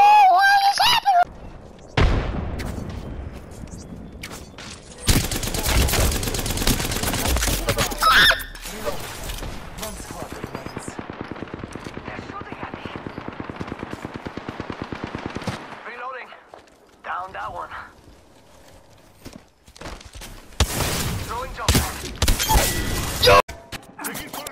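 Video game combat gunfire, bursts of rapid automatic shots and sharp blasts coming in loud clusters separated by brief lulls, with players shouting now and then.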